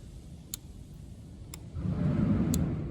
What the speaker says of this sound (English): So I'm really hoping that you can hear the ticking sound.